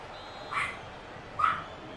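A dog barks twice outside a window, two short distant yaps about a second apart, faint against a quiet background hum.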